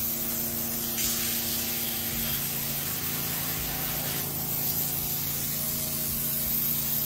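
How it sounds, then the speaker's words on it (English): Insulation foam sprayed from a can onto a cake, a continuous loud hissing spray with brief surges, alone without talk. "Spraying an insulation foam cake."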